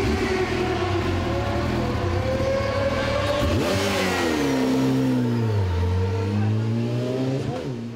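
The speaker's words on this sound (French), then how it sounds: "la numéro 4 pointe le bout du nez, Alex Verley rentre" A Yamaha R1 racing motorcycle rolls into the pits at Spa-Francorchamps during a 500 km endurance race, its engine note droning steadily, then dipping and swooping as the rider blips and slows, loud and close.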